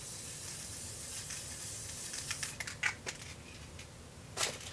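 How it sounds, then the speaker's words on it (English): A continuous hiss of an aerosol spray adhesive, steady and fairly quiet, sprayed onto the back of a glassine bag, followed by a few light clicks and taps near the end. "I'm going to spray the back"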